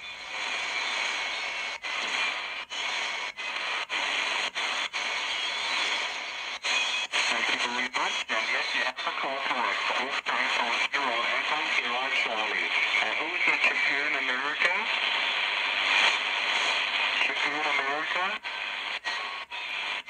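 Tecsun PL-310ET portable radio, overloaded while tuned to a ham signal, gives steady hiss and distorted, garbled voice with warbling carrier whine and sweeping tones, continuous and fairly close throughout.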